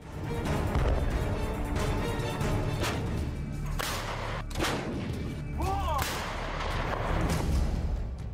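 An M777 howitzer fires in wartime Donbas, giving loud, booming artillery blasts with sharp cracks over a constant rumbling roar that fills the whole stretch.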